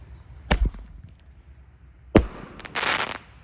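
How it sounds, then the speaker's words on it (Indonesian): A 1-inch, 8-shot roman candle firework fires two sharp, loud bursts about a second and a half apart, the second trailed by a hissing, crackling rush, all outdoors with no talk. "Roman candle 1 inci 8 shot."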